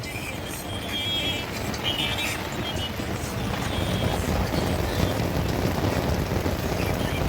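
Heavy, steady monsoon rain patters densely on surfaces, a constant broadband hiss that swells slightly louder toward the end.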